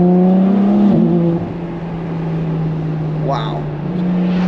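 A Ferrari F12 TDF engine pulling hard while driving, a loud, steady droning roar heard from inside the cabin that shifts pitch as it accelerates, with people talking over it.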